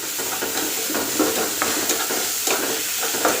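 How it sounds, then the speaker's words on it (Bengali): Cumin and ginger lightly frying in a pan, a steady bright sizzle with soft stirring scrapes every so often, close and fairly loud, without talking. "হালকা একটু ভেজে নেব, দিব একটু জিরা আর আদা।"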